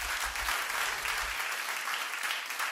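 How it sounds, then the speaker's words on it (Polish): A concert audience at a live show for Trójka Live applauds in a dense, sustained wash of clapping from many hands, steady and full throughout. "Wielkie brawo."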